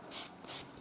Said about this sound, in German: nehmt einen Buffer und glättet euch die Oberfläche schön